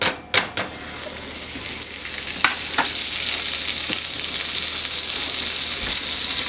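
A tablespoon of butter dropped into hot olive oil in a pan, with a sharp clatter at the start, then a steady, close sizzle broken by a few brief clinks, no voices.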